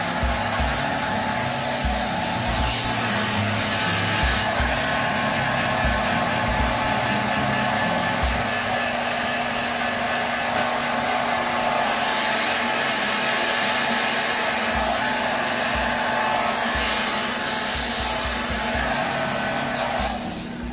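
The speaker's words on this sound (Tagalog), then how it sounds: "you can use a hair blower tulad nito" A hair dryer blows steadily and loudly with a constant whirring hum and airy rush, running alone for the whole stretch.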